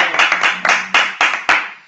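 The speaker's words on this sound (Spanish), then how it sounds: "Un aplauso para nosotros." A handful of sharp, separate claps from a small group at a live broadcast from Cádiz, loosely spaced bursts rather than a sustained ovation, close and fairly loud.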